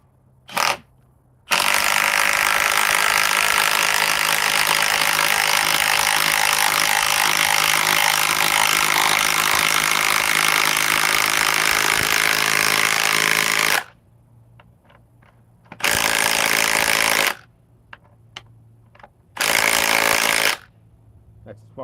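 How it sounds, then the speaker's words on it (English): Milwaukee power driver running screws into pre-drilled holes in wood at speed setting 3: one long continuous loud whir of about twelve seconds, then two shorter bursts separated by quiet pauses. "let's start driving with the Milwaukee. Okay, speed 3. This is all previously drilled holes."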